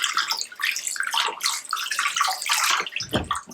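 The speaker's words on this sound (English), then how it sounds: "I would lift the tap up again like this, and then I would just rinse the soap off my hand." Tap water runs steadily into a sink while soap is rinsed off the hands, a continuous splashing hiss with a lower gurgling burst near the end.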